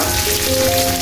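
Vegetables and dal frying in a hot pan, a dense continuous sizzle and crackle close up with no voices.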